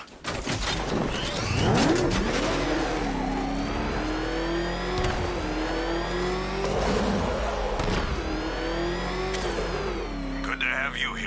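Throughout, a car engine in the game Batman: Arkham Knight drones and revs loudly up close, its pitch rising and dipping through gear shifts, with voices talking under it.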